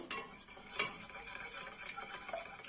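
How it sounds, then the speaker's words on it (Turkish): A whisk beats six eggs in a bowl for Turkish water börek, a quick, bright metallic clatter of wires against the bowl, repeated steadily and up close. "Kabımın içerisine aldığım 6 yumurtamı çırparak başlıyorum."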